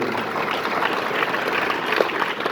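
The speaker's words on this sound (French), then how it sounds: "Est-ce qu'on peut applaudir pour l'académie qui l'ont fait?" Audience applause at a French-language talk on network marketing, a dense, steady wash of many hands clapping that fills the whole stretch at moderate loudness, with no voices over it.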